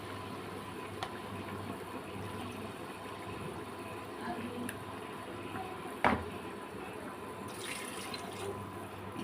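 Two cups of water are poured into a pot of pointed gourd curry to make the gravy, giving a steady, moderately faint splashing flow with a few small knocks.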